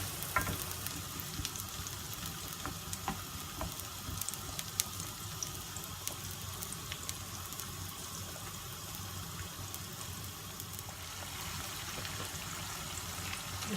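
Onions frying in a pan for Nigerian beans, a soft, continuous sizzle with occasional faint stirring and light clicks, fairly quiet throughout.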